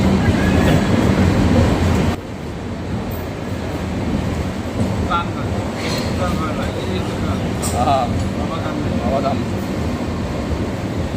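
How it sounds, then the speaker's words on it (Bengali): The Brahmaputra Mail express rolls into platform one at small, busy Sultanganj station in Bihar, a loud steady rumble of wheels and carriages with faint squeals and muffled crowd voices around it. "সুলতানগঞ্জের এক নম্বর প্ল্যাটফর্মে ট্রেনটি ঢুকলো"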